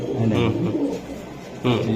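A high-flying Girbaz pigeon from a racing loft in Lalbagh, Old Dhaka, coos softly in short bursts near the microphone while people talk over it.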